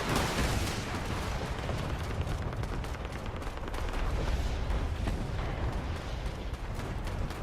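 Dense, continuous battle gunfire in a Fallout 76 fight on fortified heights at Mount Blair, with heavy overlapping shots and booms forming a loud, steady roar throughout.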